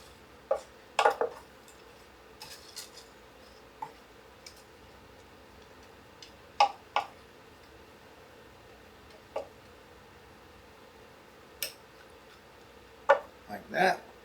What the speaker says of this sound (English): Give that just a little bit of a stir.